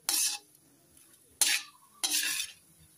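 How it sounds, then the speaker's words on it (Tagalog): Budbod filling being dry-roasted in a pan without oil over medium heat makes three separate bursts of scraping and stirring, each a short rough swish with light rattling, and near silence between them. "Isasangag lang natin ito in a medium heat"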